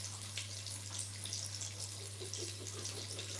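Butter beans rinsed under a running kitchen tap, a steady soft hiss of flowing water with faint splashing, moderately quiet and alone, over a low constant hum.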